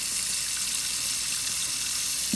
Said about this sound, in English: We're going to rinse the neck off really, really well.